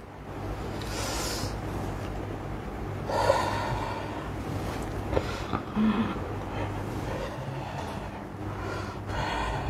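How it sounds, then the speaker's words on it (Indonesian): Slow, deep breaths are drawn in during an emergency healing treatment session, with several long, airy inhales and gasps close to the microphone over a steady low rumble. "Tarik nafas pelan-pelan."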